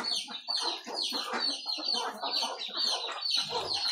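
Farm ducks give continuous overlapping quacks and clucking calls at a farm that also keeps sheep, a busy chattering flock at moderate distance with no pauses.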